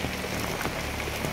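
A brief burst of heavy rain comes as a dense, constant patter-and-hiss with no voices.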